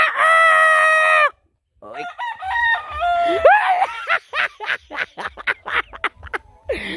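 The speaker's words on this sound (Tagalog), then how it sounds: "Ang akong alaga nga manok nga buutan kay mutubag nako." A pet rooster crows loudly and close by in one long, sustained call, then falls silent before a burst of clucking, chattering notes follows in quick, choppy bursts.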